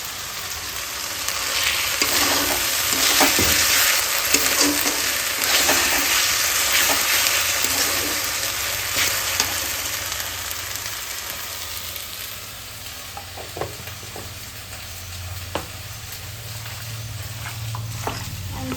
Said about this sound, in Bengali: মশলা কষানো হচ্ছে আমি নাড়ি দাও